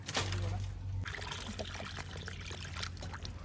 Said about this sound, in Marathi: स्वच्छ धुवून घेतले 2 पाण्याने